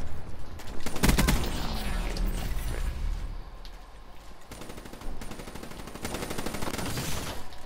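Rapid automatic gunfire in the Call of Duty: Black Ops III video game, dense bursts of rattling shots in two main strings with a brief lull between, loud and close.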